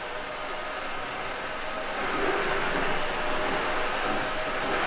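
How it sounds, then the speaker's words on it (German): A MACH V1 Ultra all-in-one cleaner runs in vacuum mode, giving a steady, close whooshing whine of suction that grows slightly louder and fuller partway through. "Lass mal beseitigen mit dem normalen Staubsaugermodus"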